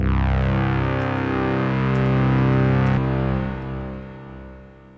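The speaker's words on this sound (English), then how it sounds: "listen to what happens to the timbre of the tail, the reverb tail" A sustained, heavily processed distorted tone rings on, then after a cut its reverberant tail fades away over the last couple of seconds.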